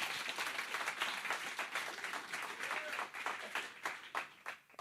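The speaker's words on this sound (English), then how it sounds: "Let's have a round of applause for everybody" A live audience applauds poets at a literary town hall event in Seattle's Capitol Hill, a steady wash of many hands clapping that fades toward the end.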